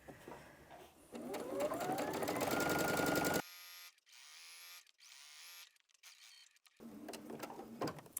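A sewing machine stitching a pillowcase made of Tilda fabric with pins left in, a fast whirring run rising in pitch, then short stop-start bursts separated by pauses, and a final steady run.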